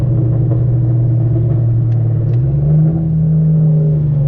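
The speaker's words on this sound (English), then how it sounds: "there's still a little bit of rev hang right now" Loud, steady engine drone from inside a 2013 Genesis Coupe 3.8 with full bolt-on modifications, a deep continuous hum that shifts slightly in pitch partway through as the revs change.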